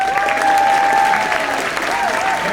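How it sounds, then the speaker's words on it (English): Audience applause at a high school honor band concert honoring music teachers, steady dense clapping filling the hall for the whole stretch, with a sustained tone and some voices underneath. "give these individuals a big round of applause for all the hard work and dedication with their students"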